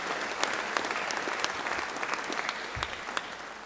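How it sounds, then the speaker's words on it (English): Audience at a university faculty event claps briefly and quietly, a thin, scattered patter of hands with a few sharper individual claps standing out, heard from a distance. "Yeah, you can clap."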